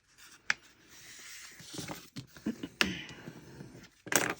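A sheet of paper is folded into crisp creases, pressed flat with a pen or fingertip while making a craft pocket: sharp, dry crackles and rustles come in separate bursts, the loudest near the start and the end.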